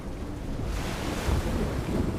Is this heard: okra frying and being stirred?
no